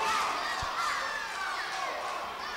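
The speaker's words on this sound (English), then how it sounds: "The crowd getting behind the Samoans with the chant of Samoa." A wrestling arena crowd chants for the Samoans tag team, a broad, sustained roar of many voices at moderate distance, steady throughout with no single voice standing out.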